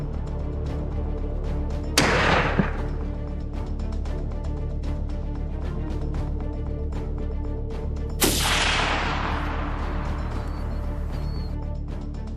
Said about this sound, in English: The crack of gunfire took down 2 more.